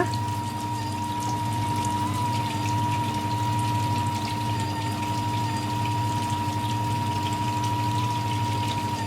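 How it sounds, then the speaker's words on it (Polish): A Monsieur Cuisine kitchen food processor making mayonnaise runs with a constant, even hum and steady tones, while liquid gurgles and bubbles along without pause. No one speaks. "Słychać jak maszyna pracuje."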